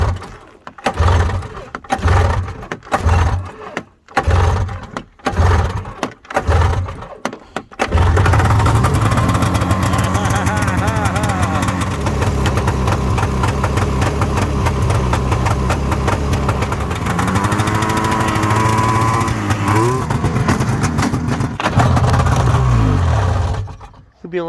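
A vintage snowmobile's old Spirit engine, suffering a bad fuel pump, sputters through rough starting attempts, then catches and runs loud and close, holding a steady roar with a couple of revs near the end while someone talks briefly.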